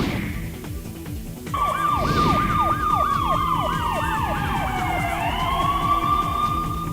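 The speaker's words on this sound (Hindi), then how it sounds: "पुलिस की गाड़ी का सायरन सुनकर भागता आरोपी" A police car siren wails loudly and close by, starting after a moment of street noise and holding a rapid, rising-and-falling yelp before settling into a long steady tone, with traffic rumbling underneath.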